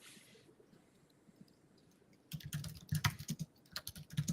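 Search words go into a computer keyboard in brief, close bursts of clicking keys, starting after about two seconds of near-quiet, with uneven gaps between clusters of taps.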